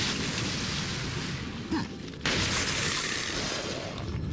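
A single gunshot kills an enemy in the Resident Evil 4 video game, a brief muffled blast set against a constant loud game soundscape, with no talk.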